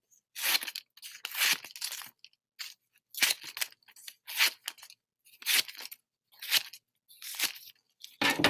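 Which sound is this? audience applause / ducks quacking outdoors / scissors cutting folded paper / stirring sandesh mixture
scissors cutting folded paper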